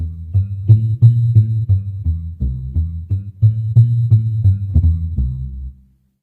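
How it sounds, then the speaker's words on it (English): A deep synthesized bass plays a short rhythmic line of repeated notes, each with a reverberant tail, ending with a longer note that fades out. "Let's import a bass amp."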